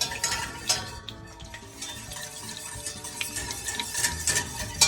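Butter browning in a pan while being stirred for beet brownies, with steady metal utensil scraping and clinking against the pan over a soft sizzle, close and continuous.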